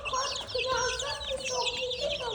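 A flock of one-month-old chicks gives continuous overlapping peeping and soft clucking, loud and close, with no clear pauses.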